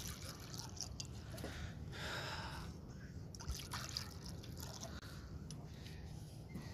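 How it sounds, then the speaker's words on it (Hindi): Water poured into containers, a faint, close trickling and splashing that runs through the whole stretch without speech. "सबसे पहले इसमें पानी तो डाल लूँ"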